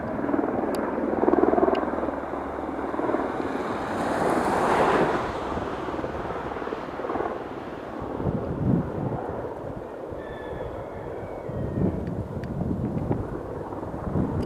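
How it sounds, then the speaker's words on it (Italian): A fire brigade helicopter drones overhead during a wildfire, its rotor noise swelling and fading against a background rumble of wind. "è in funzione ancora l'elicottero dei pompieri che sorvola l'intera"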